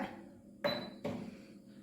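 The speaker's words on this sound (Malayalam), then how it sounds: "ഇനി ചിക്കൻ ഓവനകത്തേക്ക് വെച്ച് കൊടുക്കാം" A tray of tandoori chicken goes into a preheated OTG oven with two close metallic clunks about half a second apart, short and moderately loud against a quiet room.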